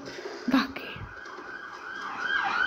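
A wailing ambulance siren rises and falls in the background of Fortnite gameplay, with a brief knock and faint murmuring near the start.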